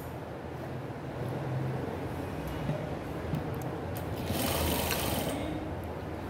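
Sewing machine stitching a plain kurti, a fast, even mechanical whirr running close and fairly quiet throughout, with a brighter burst of clatter near the end.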